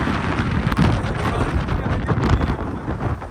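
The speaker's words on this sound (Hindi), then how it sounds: "बहुत हैवी तूफान आ चुका है।" A very heavy storm in Dubai roars with steady wind and rain, a dense, loud wash of noise with no voices.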